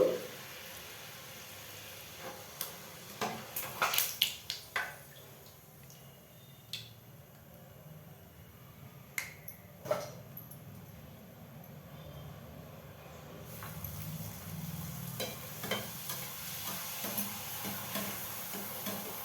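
Poori frying in hot oil, a quiet steady sizzle under scattered clinks and scraping taps of a utensil against the pan, with the bubbling growing louder toward the end and no voices.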